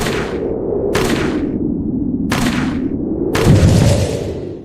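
Four handgun shots ring out in the survival video game 99 Nights in the Forest, spaced about a second apart, each a loud sharp crack with a short decaying tail over a steady low background rumble.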